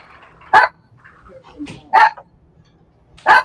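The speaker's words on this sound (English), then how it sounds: "The dog's on TV." Dog barking on a TV, three loud, sharp barks spaced over a few seconds with brief quieter vocal sounds between them.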